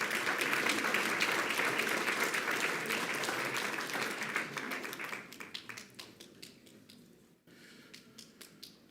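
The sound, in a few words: applause for students entering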